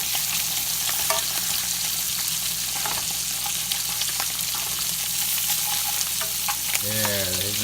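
Bacon, bologna and onion frying together in a pan for a grilled cheese: a close, continuous sizzle and crackle with faint stirring scrapes, steady and loud throughout, and a brief tonal sound near the end.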